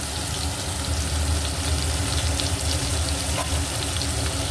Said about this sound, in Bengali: এবার কুমড়োগুলোকেও আমি ভালো করে ভেজে নেবো